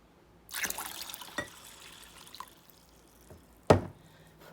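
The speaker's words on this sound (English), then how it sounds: "I'm just gonna fill this thing up with water." Water running into a pot of dried black-eyed peas in a kitchen, heard as a faint trickle with a few sharp clinks and knocks, one louder bang near the end, all close and quiet.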